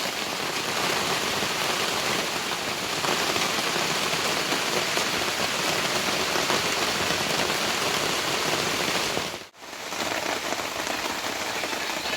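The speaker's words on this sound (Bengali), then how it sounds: "আজকে বৃষ্টি চলে এসছে" Steady, heavy rain pours down on a surface, a dense hiss with no voices and a brief dip near the end.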